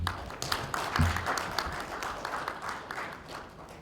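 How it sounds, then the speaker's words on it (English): Audience applause for the Minister for Fisheries at an MOU signing ceremony for co-hosting the Pacific Tuna Forum, with a moderate, steady patter of clapping from a gathered crowd that swells early and then tapers slightly. "can you give a big round of applause to our Minister for Fisheries and Forest?"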